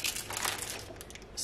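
A plastic Ziploc bag is handled during a household declutter, a brief close crinkling and rustling that lasts about a second and a half, with no voice over it.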